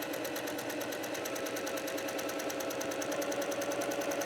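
Sewing machine running steadily while stitching quilting fabric around a curve, a fast, even mechanical whirring with rapid needle ticks throughout, close and moderately loud with no talking.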